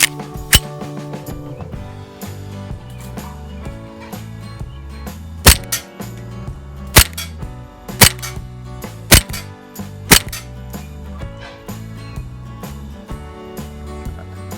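An ASG CZ P-09 airsoft pistol fires .25 Elite Force BBs, a series of sharp, close snaps spaced unevenly about a second apart, each a crisp crack over a steady background hum.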